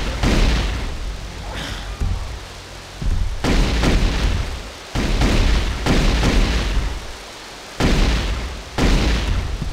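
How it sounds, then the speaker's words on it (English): A Scorpion missile launcher fires repeatedly in a competitive shooter game, each launch a loud, booming blast followed by a decaying rumble, about four big shots spaced a couple of seconds apart. "Scorpion missile launcher."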